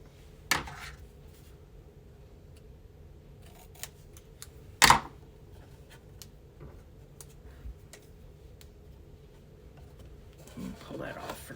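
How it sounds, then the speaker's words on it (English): Scissors trim a small piece off a craft project made with twinkling-lights dies, with a few quick sharp snips standing out against a quiet background of faint handling noise. "I'll trim that little piece off."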